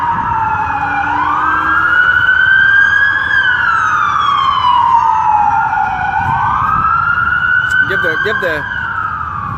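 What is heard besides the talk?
emergency vehicle sirens passing in the street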